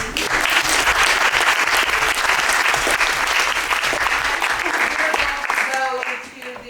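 An audience at the Left Forum 2018 applauds a poet in residence. Dense, loud applause fills a hall and holds steady before fading out near the end as a voice begins speaking.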